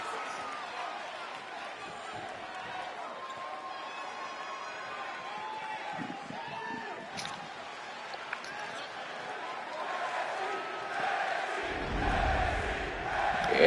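Crowd noise in the NXT arena of the WWE 2K22 wrestling game: a steady, moderately loud murmur and cheer that swells toward the end, with a commentator's voice over it.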